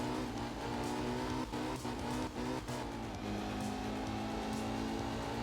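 Rally car engine in the video game Art of Rally, a steady loud drone with harmonic tones holding nearly constant, a few sharp transient clicks over the first three seconds, no talking.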